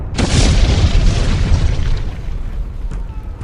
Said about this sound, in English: At 1:07 p.m., Mount Vesuvius erupted.